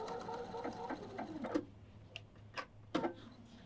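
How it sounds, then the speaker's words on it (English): Home sewing machine stitching quilt block pieces for an Accuquilt heart block, a quarter-inch seam under the presser foot, running in short bursts of fast whirring with brief pauses. "let's stitch those together"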